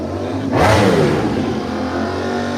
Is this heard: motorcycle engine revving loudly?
yes